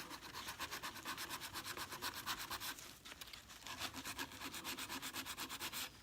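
A nail file is worked in quick back-and-forth strokes to shape an acrylic nail into a tapered coffin form, its dry rasping rubs close and steady across the whole stretch with a brief pause midway.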